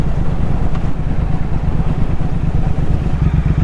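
Triumph Speed Twin 1200 motorcycle being ridden, a steady loud engine drone mixed with heavy wind rush, continuous throughout.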